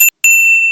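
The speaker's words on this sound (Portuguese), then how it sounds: "Ative o sininho para que você receba as notificações" A bright notification bell dings twice, each strike ringing out as a clear, sustained metallic tone with a short gap between them and no voices.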